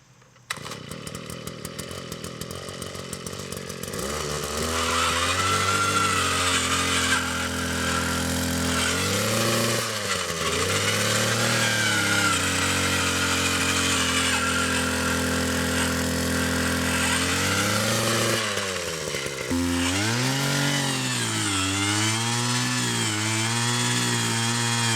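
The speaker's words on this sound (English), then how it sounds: "I'm going to use this gas-powered auger to do it." Gas-powered auger drilling fence post holes in the ground, its small engine loud and close, revving up and bogging down repeatedly as the bit bites into the dirt.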